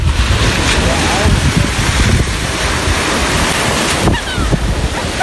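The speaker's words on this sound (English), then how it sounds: "They got me out here trying to jump waves, but the water does feel good." Ocean surf breaking on Pensacola beach, a loud, continuous wash of waves with gusty wind buffeting the microphone throughout, swelling and easing in steady rolls with no clear voices.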